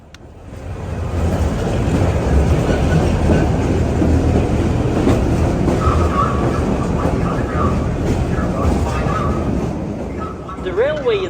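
Mine railway train rumbling through the Sullivan lead-zinc-silver mine, a steady loud clatter of rail cars on track with a faint squeal near the end; voices are heard faintly in the background.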